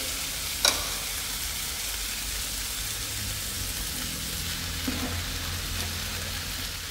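Vegetarian glass noodles stir-fried with oyster mushrooms: a steady, even sizzle like light rain throughout, with a couple of brief sharp utensil clicks against the pan and no talking.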